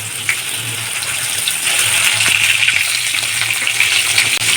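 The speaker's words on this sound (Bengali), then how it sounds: "ওই তেলের মধ্যে আমি পটলগুলো ভেজে নেব।" Pointed gourd (potol) frying in hot oil after potatoes, a loud, dense, continuous sizzle heard up close with faint crackles and the odd scrape, no voices.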